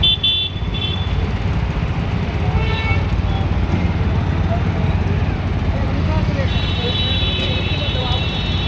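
Road traffic recorded from a moving motorbike near Old Faridabad railway station, a steady broadband rumble of engines and wind with scattered distant horn toots, including a longer horn near the end.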